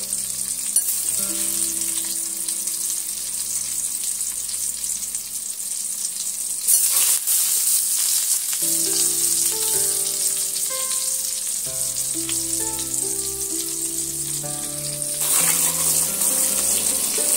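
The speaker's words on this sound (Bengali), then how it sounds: "ডিমগুলো আমি সুন্দর করে লাল লাল করে ভেজে নেব।" Eggs frying in hot oil in a pan, a loud, continuous sizzle lasting throughout, with faint tonal music playing underneath and no talking.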